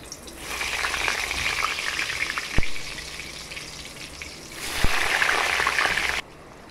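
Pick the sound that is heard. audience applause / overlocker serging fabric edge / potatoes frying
potatoes frying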